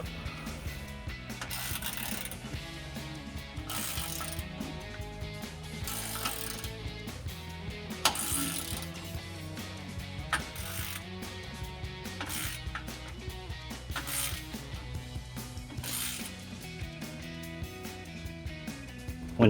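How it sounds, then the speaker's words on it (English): A ratchet torques 15mm exhaust bolts on a 2019-2023 Ford Ranger during an MBRP 3-inch dual exhaust install. Repeated quick pawl clicks come in bursts, close and crisp, over background music. "We're going to start torquing everything from the front all the way to the back, starting with your 15mm bolts here on your adapter."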